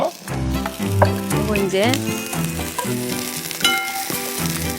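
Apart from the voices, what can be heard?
green onions and garlic chicken sizzling in a pan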